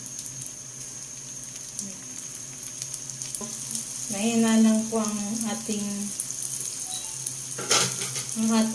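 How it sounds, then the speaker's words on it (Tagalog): Steady sizzling of ube turon frying in hot oil runs throughout, with a person speaking briefly over it and a few clinks near the end. "Prito na po tayo."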